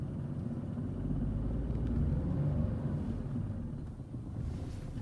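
A car eases away in first gear on a snowy road with a light touch of throttle: a steady low engine rumble swells gently under wind noise, close and continuous, with no talk.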